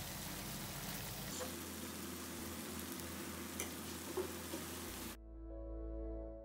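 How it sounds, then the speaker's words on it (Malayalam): Chicken pieces fry in a pan with a steady, close crackling sizzle and a couple of faint clicks, then the sound cuts off abruptly near the end, leaving a low hum. "ഇതുപോലെ മറ്റേ ഭാഗം കൂടെ ഒന്ന് ഫ്രൈ ചെയ്തിട്ടെടുക്കുന്നുണ്ട്."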